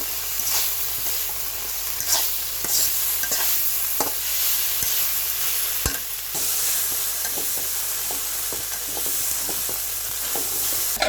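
Egg masala stir-fried in a pan gives a steady close sizzle with repeated scraping strokes of a spatula, all the way through, with no talking.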